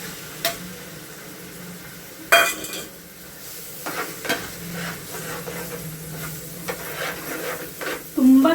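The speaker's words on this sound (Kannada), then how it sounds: "ಈರುಳ್ಳಿ ಚೆನ್ನಾಗಿ ಫ್ರೈ ಆಗಿದೆ." Onions fry in a pan over a soft, continuous sizzle, broken by scattered scrapes and knocks of a spoon stirring them.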